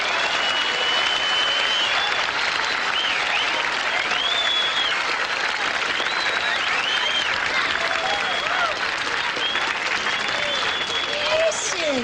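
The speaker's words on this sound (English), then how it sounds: "They're still applauding" Sustained audience applause in Central Park after a Shakespeare performance, a thick unbroken roar of clapping from a large crowd at steady volume, with scattered whistles and shouts riding on top.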